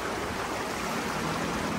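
River flowing beneath Linawan Bridge after high water, a steady broadband rush of moving water that stays constant and fairly close with no breaks.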